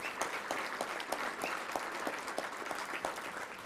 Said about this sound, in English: Let's give them another round of applause for being here today.